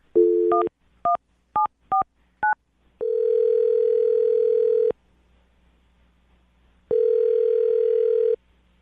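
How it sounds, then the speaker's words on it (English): A steady telephone dial tone plays for about two seconds, broken off, then returns briefly after a pause, following a quick series of keypad beeps. "Dial the phone number right now and get him on the phone."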